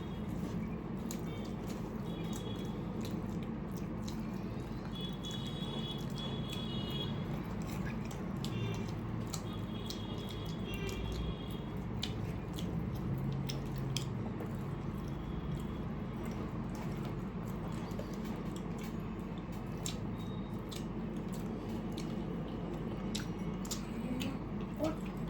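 Chilli chicken being eaten, with soft wet squishing and chewing close to the mic, running steadily and quietly under a faint background hum throughout.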